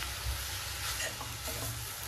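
Fenugreek leaves are stir-fried and mixed in a pan, giving a short, dense, continuous sizzle with soft rustling from the stirring.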